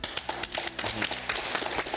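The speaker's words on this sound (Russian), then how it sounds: "Аплодисменты." An audience applauds a student, giving a quick burst of close, sharp hand claps in an uneven, lively rhythm.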